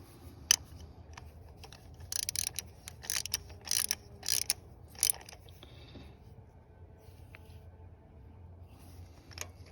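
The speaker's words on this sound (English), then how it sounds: "I'm just using a standard 5/8 spark plug wrench socket" A 5/8 spark plug socket on a ratchet clicks in short rapid bursts while plugs are being changed on a 2005 Toyota RAV4, several close, crisp runs of pawl ticks separated by pauses over a quiet garage hum.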